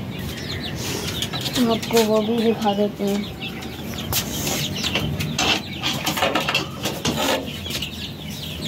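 Chickens in a coop, a rooster and a hen, cluck in a short burst of repeated calls with some wing flutter nearby, while someone talks over the scene.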